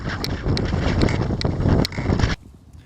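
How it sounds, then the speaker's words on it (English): Headwind gusting over the Yukon River near Lac La Barge during a canoe trip, a loud, steady broadband roar of wind buffeting the microphone for over two seconds before dropping off abruptly. "Not sure if we'll be able to make it out onto Lac La Barge with this headwind."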